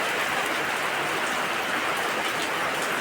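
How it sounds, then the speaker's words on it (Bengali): Rain falls steadily on a morning in an Andaman village, a dense, even hiss of drops on surfaces close around with no breaks or voices. "সকালে ওই যে হচ্ছে পুরো বৃষ্টি, আকাশটা পুরো কালো হয়ে গেছে।"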